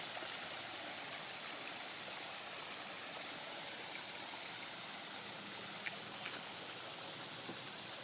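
A big waterfall in a lush, jungle-like setting produces a steady, broad rushing roar that holds constant throughout, with no voices over it.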